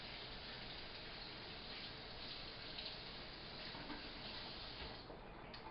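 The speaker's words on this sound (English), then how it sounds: "Rinse off the fingers." Fingers being rinsed under a running kitchen tap while breading chicken, giving a steady, even hiss of flowing water that stays close and constant throughout, with no talking.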